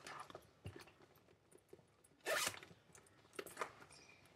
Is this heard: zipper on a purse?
yes